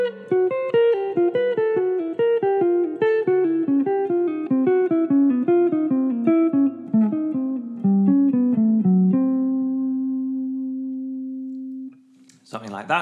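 A melodic instrument plays pentatonic scale patterns in groups of four notes, a quick steady run of clear, close tones that ends on a sustained note, followed by a brief bit of talk.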